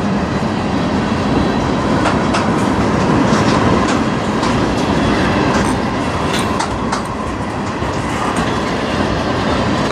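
BNSF C44-9W locomotive, number 5104, leading a manifest freight train on the Strathroy Sub, rolling past close by in a steady, loud rumble with repeated clicking wheel beats over the rail joints and no voices.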